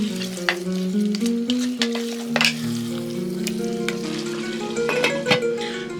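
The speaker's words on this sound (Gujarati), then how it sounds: "મેરિનેટેડ ગોટ મીટને એડ કરીએ। ફૂલ ગેસ ઉપર એને 5 મિનિટ સુધી આપણે સરસ કુક કરી લઈએ।" Marinated goat meat sizzles loudly in a pan over a full gas flame for mutton curry, a steady crackling fry punctuated by scraping stirs and clinks of the spoon.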